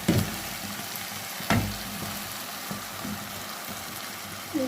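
Hot water is poured into tomato masala frying in a pan for a low-oil rohu fish bhuna, and a steady, close sizzle and bubbling follow. Stirring scrapes cut in now and then over the frying.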